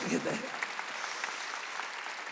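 A church congregation at a Wednesday worship service applauds in a steady, dense patter that fills the room, with a voice talking over the start.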